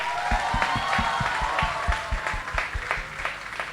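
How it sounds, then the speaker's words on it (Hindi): An audience claps to welcome a performer onto a comedy stage, a moderately loud run of applause with distinct sharp claps in a fairly regular rhythm and a faint crowd murmur underneath. "so I would like to call आप लोगों की तालियों के बीच one of the most talented mister Ashok Kumar Mishra"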